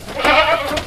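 A single loud, close bleat from a Javanese randu goat on a village goat farm, a wavering, nasal cry lasting under a second with no talk over it.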